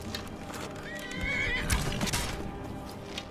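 In the video game Skyrim, a horse gives a loud neigh with clip-clopping hooves close by, the whinny rising briefly over the hoof sounds.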